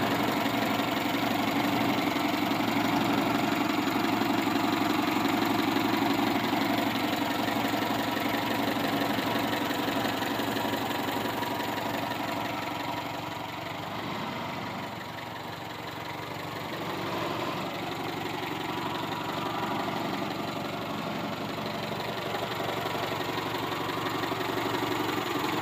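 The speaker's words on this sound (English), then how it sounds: "There's the engine." A 1970 Volvo Amazon's engine idles steadily at close range, a continuous low mechanical rumble with a slight knocking texture that dips briefly in loudness midway, with no talking over it.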